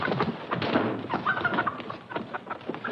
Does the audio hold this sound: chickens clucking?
yes